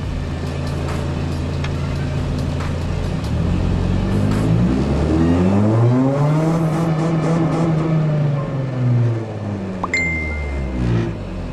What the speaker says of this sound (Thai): นี้รอบเครื่องยังตัดอยู่นะครับ